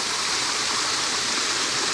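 A waterfall at a landscape photography location makes a steady, dense rush of falling water that holds constant throughout, with no voices.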